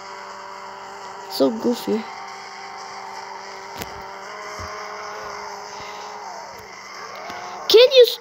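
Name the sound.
car drifting and tire squeal in Extreme Car Driving Simulator game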